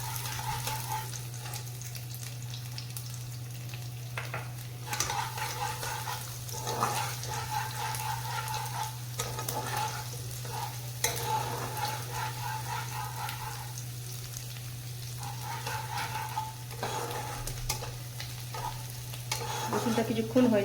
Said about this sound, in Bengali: রসুনটা কিছুক্ষণ হয়ে যাক, হালকা একদম, বেশি ফ্রাই করবার নেই রসুনটাকে।